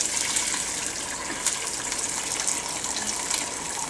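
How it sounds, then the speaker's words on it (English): Homemade chicken stock pours in a steady, dense, hissing gush through a cheesecloth-lined strainer, close and continuous, with no talk. "So now we're going to take our stock and we're going to strain it."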